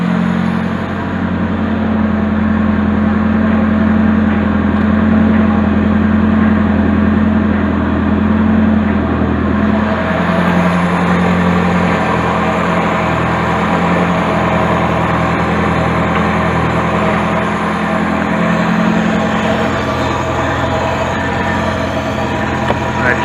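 A Nissan 240SX engine idles steadily after a power steering line replacement, a loud continuous low drone with a slight pitch change partway through, close and uninterrupted.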